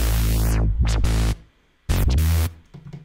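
Glitch hop wobble bass built in Reason, loud and alone, with sweeping pitch-bend dives and rises, stuttering wobbles and a sudden gap of near silence mid-phrase.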